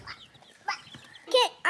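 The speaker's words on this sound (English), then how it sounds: "Baby chickens. Baby chickens." High, thin peeping chirps from baby chickens, a few short calls near the end, with faint background voices and clatter.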